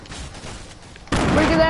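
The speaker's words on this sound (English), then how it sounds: "That was my hunting rifle." Hunting rifle fire in a PS4 shooter game, a dense, loud burst of gunfire erupting suddenly after a quieter stretch of background noise and lasting to the end.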